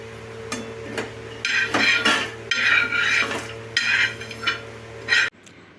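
Metal utensils scrape and clink against a pan as dry-roasted ingredients are moved onto a plate, in close repeated bursts of scraping over a steady hum before an abrupt stop.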